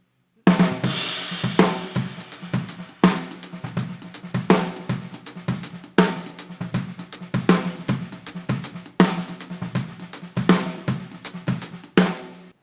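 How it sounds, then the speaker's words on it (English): A drum kit plays a steady halftime shuffle groove, with a heavy backbeat snare every couple of seconds and busy shuffled ghost notes and hi-hat between hits. "that halftime shuffle sounds something like this"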